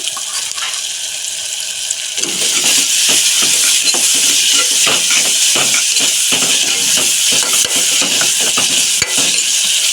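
Onions frying in a pan with turmeric and ginger paste added, a loud steady sizzle with the scrape and stir of a spoon running throughout.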